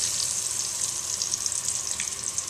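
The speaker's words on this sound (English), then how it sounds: "now I just pour it through a strainer. A metal strainer." Fried okra and hot oil are poured through a metal strainer, giving a steady hissing, sizzling trickle with bright crackle that holds evenly throughout, no voices.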